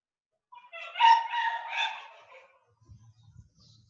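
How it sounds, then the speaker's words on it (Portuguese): A dog whimpers and lets out a short, plaintive howl that rises and trails off, heard nearby in otherwise quiet surroundings, followed by faint low rumbling. "O cachorrinho do vizinho hoje tá"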